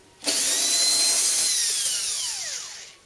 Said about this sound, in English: Goes a lot faster if you have a little electric screwdriver